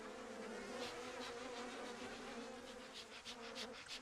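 Saharan honey bees in a Moroccan desert apiary, a continuous soft buzzing drone from many bees, steady and fairly faint, with no voices.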